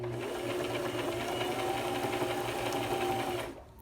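A home sewing machine runs a steady stitching pass through fabric for beginner practice, giving a loud, even, rapid mechanical chatter that continues nonstop until it cuts off sharply near the end.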